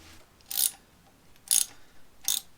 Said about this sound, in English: what you're going to need is a 3/16 Allen bit for both sides, just to tighten it up